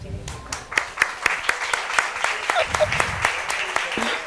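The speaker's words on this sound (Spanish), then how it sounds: "Así que un aplauso" A studio audience breaks into a burst of dense, lively clapping that stays loud and steady throughout, with a voice briefly heard beneath it.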